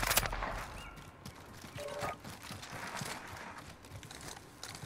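Shotgun fire in a Call of Duty match, a chaotic burst of loud blasts and rapid gunfire from several weapons that settles into softer continued shooting.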